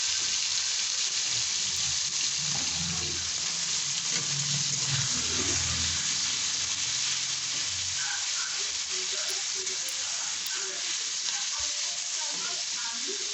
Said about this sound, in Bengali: এবার আমি সব মাছগুলো একসঙ্গে কড়াতে দিয়ে দেব।